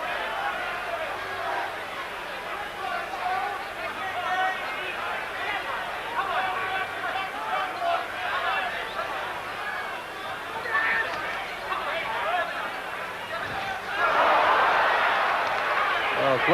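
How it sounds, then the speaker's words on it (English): A boxing crowd at a heavyweight bout between Mike Tyson and James Smith keeps up a steady babble of jeers and chatter, swelling louder near the end, under a commentator's voice. "So the crowd now jeering Smith"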